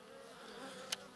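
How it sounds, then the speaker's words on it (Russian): Bees buzzing around their hives: a steady, faint, droning hum with no voices, broken near the end by a brief sharp click. "у пчел активность прямо неимоверно"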